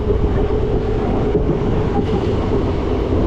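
A train rumbles along the rails in a steady low roar, heard from inside a carriage with continuous rolling noise, while heavy rain falls outside.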